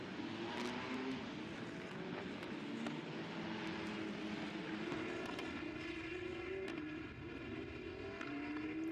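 Race motorcycles on installation laps at the Jerez circuit give a steady, distant engine drone that rises and falls as machines pass, layered with wide crowd and track ambience and no voices.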